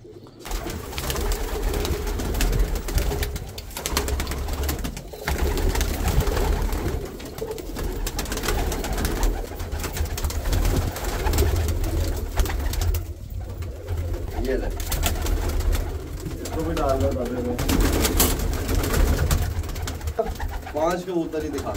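Pigeons in a breeding cage coo in a low, continuous murmur amid steady background noise, with occasional talking mixed in.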